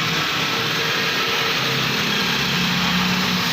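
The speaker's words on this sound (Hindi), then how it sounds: "गाड़ी का साउंड भी ठीक है" Suzuki Alto 1000cc car running on LPG idles steadily at close range, a constant low engine hum with a broad hiss on top, with no talk and no change in rhythm.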